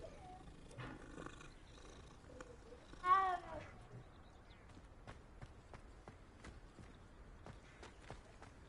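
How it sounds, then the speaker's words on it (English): A cat in Hogwarts Legacy purrs softly while being petted, a low, quiet rumble broken by a short meow-like chirp in the middle and light tapping sounds throughout. "We can pet the kitties."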